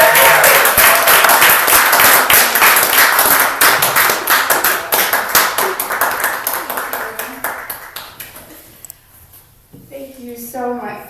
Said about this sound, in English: Let's have a really big round of applause for Vera.